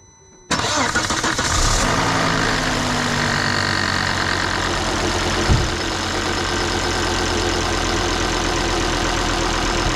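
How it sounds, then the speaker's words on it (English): A Volvo V70 with a warm engine cranks briefly and catches, then settles into a loud, steady idle with a low rumble and faint ticking, heard up close with no talking. "the engine is actually warm, so I'm going to start it up"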